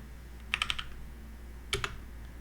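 Computer keyboard keys tapped in two quick bursts while a systemctl command is entered, a handful of crisp clicks, then a short pause and two more, close and fairly quiet, no speech.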